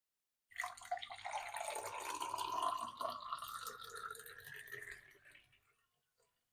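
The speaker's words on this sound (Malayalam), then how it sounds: "ഇനി നമുക്ക് ഗ്ലാസ്സിലേക്ക് ഒഴിക്കാം" Juice pours steadily into a glass for several seconds, the gurgle rising in pitch as it fills, then trails off into silence.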